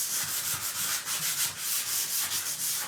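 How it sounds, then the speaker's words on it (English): Sandpaper rubbed by hand over a Dollar Tree wood panel, a close, steady rasping with short rhythmic back-and-forth strokes and no talking. "So I'm just going to take a piece of sandpaper"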